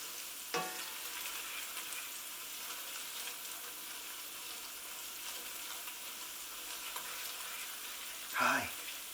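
Chilli powder frying in a pan for a vegetarian puttanesca-style pasta sauce, a faint continuous sizzle with two brief louder bumps.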